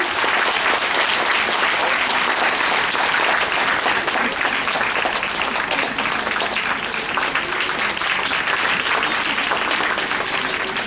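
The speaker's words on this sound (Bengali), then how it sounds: "সবার জন্য হাততালি।" An audience claps loudly and continuously after a children's drama performance, a dense, even wash of many hands that holds for the whole stretch without a break.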